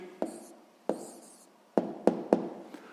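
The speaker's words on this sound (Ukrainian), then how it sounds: "Записуємо відповідь." Pen writing an answer on paper during a sixth-grade maths exercise, five sharp, close taps and scratches spaced unevenly, each fading quickly, with no talk.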